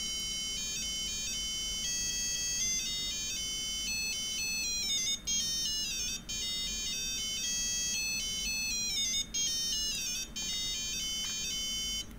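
An Arduino-based mBot robot's buzzer plays a tune as a steady run of bright electronic beeping tones in a repeating melody, loud and close with no talking.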